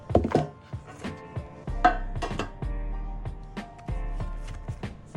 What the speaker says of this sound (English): Equally cut into 4x4" pieces.